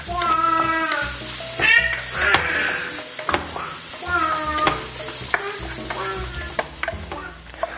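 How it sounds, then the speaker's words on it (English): Mushrooms sauté in butter in a pan for a pasta sauce, with steady sizzling and frying broken by repeated spatula stirring and scraping, close and fairly loud, with no talk. "we're going to let this go until the mushrooms are nice and saturated and sauteed"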